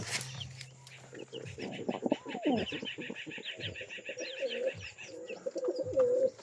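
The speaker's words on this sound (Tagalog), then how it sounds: "Ito mga kalapatids." Several pigeons coo close by in overlapping, throaty, warbling calls, with a faint steady hum in the background.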